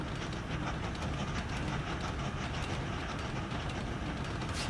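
A train rolls along in the rail-building game Train Valley with a steady mechanical rumble and faint rhythmic clatter, continuous and moderately quiet with no voices over it.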